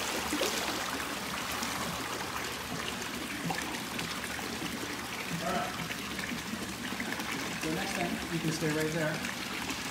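Swim spa jets churn water in a steady rushing roar, a continuous pouring sound with people talking over it.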